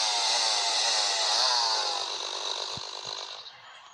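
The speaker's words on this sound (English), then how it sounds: "I'm pretty sure it takes a while to chop down trees" Trees being chopped down in the video game Giant io, a steady buzzing, chainsaw-like drone that stays loud and close for a few seconds before tapering slightly, with a couple of faint thumps near the end.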